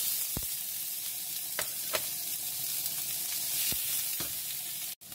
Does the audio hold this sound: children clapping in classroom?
no